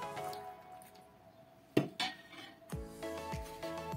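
Freshly boiled water poured into a glass jar of homemade compote, a soft liquid pour with a few clinks of glass and lid against the jar, close up and fairly quiet.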